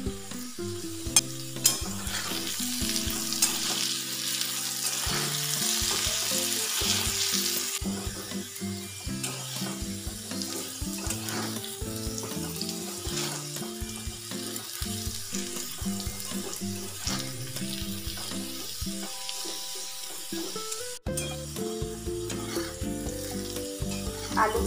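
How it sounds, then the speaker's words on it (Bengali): Potatoes frying in hot oil with asafoetida in a Bengali lentil dish, a steady loud sizzle with stirring scrapes and occasional clinks throughout, no voices. "আলুগুলো ভাজা হয়ে গেছে"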